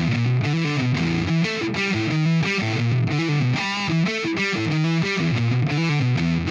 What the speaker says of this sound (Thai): ลองฟังกับเสียงแตกบ้างครับ